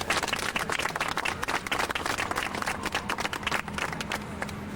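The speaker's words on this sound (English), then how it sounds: "Please join me in giving Ferda a round of applause." Round of applause from an audience at the closing ceremony of a fast, honoring a person named Ferda. Dense, energetic clapping from many hands holds steady throughout.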